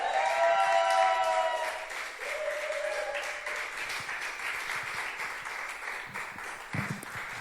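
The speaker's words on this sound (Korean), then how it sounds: "우리 박수와 환호로 목사님 모시겠습니다" A church congregation claps and cheers to welcome a pastor at a Sunday worship service, applause swelling loudly at first, then settling into a steady, diffuse roar with a few scattered louder claps near the end.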